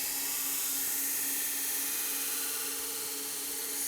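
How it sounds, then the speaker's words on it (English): A knife tip is ground on a slow variable-speed 120 grit belt sharpener, giving a steady, continuous abrasive hiss with no pauses or talk. "And with one pass on this 120 grit belt, I've done one side."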